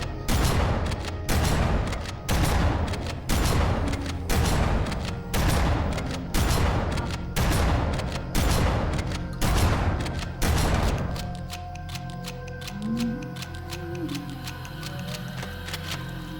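A shotgun in the Halo video game fires in a steady series of loud, evenly spaced booming blasts, followed by quieter mechanical reloading clicks and shell-loading sounds.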